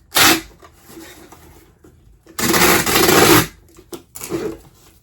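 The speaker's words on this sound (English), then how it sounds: "Tape noise, I think. If I can get it to stick." Packing tape rips off a roll in loud bursts: a short pull, then a long drawn-out screech, then a shorter one, with quiet rustling between.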